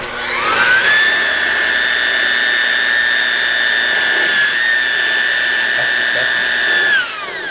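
A loud, steady high-pitched whine from a spinning boat polisher runs for about six seconds, with a rough scraping texture as a spur cleans the pad, then winds down.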